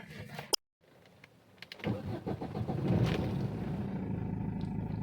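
A car engine is started after its wiring was repaired, following a check-engine-light fault caused by rodents. A click and a brief pause come first, then the starter cranks and the engine catches into a steady idle close by.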